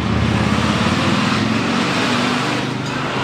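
A Routemaster bus retrofitted with an Allison gearbox, its engine a steady loud drone with a low throbbing hum heard up close, continuous with no gaps.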